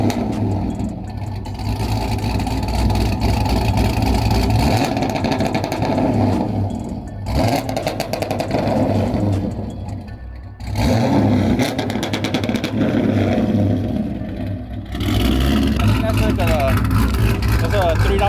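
Pontiac G8 engine with a two-step installed, revving steadily around 3,000 RPM with a loud sustained drone and brief dips, while a person talks over it.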